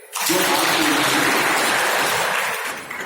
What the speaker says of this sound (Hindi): इसलिए हम ताली बजा सकते हैं।